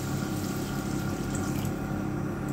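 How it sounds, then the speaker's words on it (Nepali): Rice-washing water is poured into marinated mutton for soup, a steady close splashing pour running without pause for the whole short moment with no voice. "हामीले अब सुपको लागि चाहिँ चौलेनी पानी हाल्ने"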